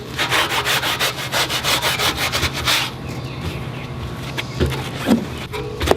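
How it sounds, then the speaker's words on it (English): Sanding block rubbed over metal of a grill-gazebo and kamado grill ash pan under restoration; steady rhythmic back-and-forth scraping strokes, close and loud for about three seconds, then quieter intermittent rubbing and small knocks. "I'm going to go around to sand all this off with the sanding block."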